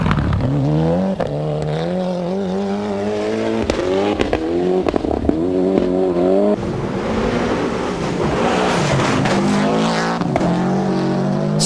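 Ari Vatanen's Toyota rally car at speed on a stage of the 1994 Rally New Zealand, its engine loud and close, rising and falling in pitch through repeated gear changes and revs over about twelve seconds.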